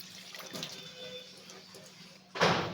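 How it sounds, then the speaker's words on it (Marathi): Half a glass of water poured into a kadhai (wok) to set up steaming, a short burst of splashing near the end after a quiet stretch of faint kitchen noise. "एक अर्धा पेला पाणी घालून घेऊया."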